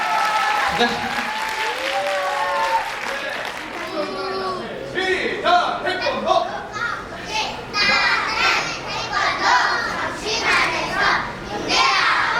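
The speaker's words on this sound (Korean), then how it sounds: "박수 주세요." A group of children at a kindergarten taekwondo dance recital claps and cheers in bursts, with excited young voices chattering over the applause.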